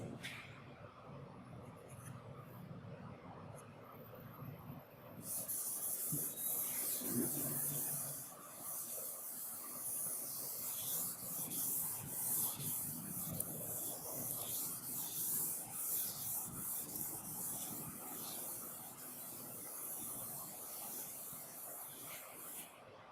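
A classroom board is rubbed clean, giving a steady, broad hissing scrub that starts after a few seconds and continues almost without a break.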